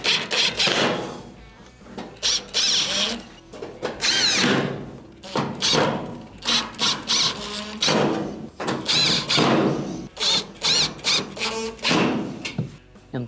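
Screws being driven back in around the perimeter of an Amana stove's control panel during a repair, heard as irregular bursts of close mechanical whirring and squeaky turning separated by short pauses.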